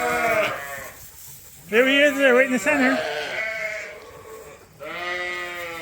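Sheep on a farm bleat loudly while being fed grain, with several long, wavering calls close by and a person speaking between them.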